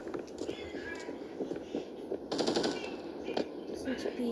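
Makarov pistol shots from the mobile shooter game Standoff 2 crack out in a quick irregular series, several sharp reports over game background noise.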